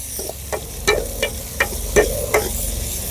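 A spoon stirs onions and tomato frying in a pan, scraping in regular strokes about every half second over a steady sizzle, close up, with no talk heard.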